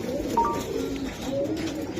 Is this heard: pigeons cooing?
yes